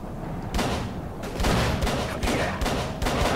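Repeated gunshots in Call of Cthulhu crack out in quick irregular bursts over a steady, dense background din.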